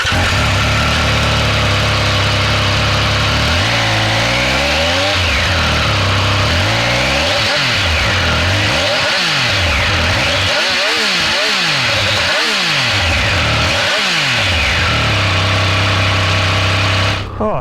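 A Triumph Speed Triple 1200 RR motorcycle with its standard silencer, a loud, close engine that idles and then rises and falls through repeated revs before settling back, with no talking.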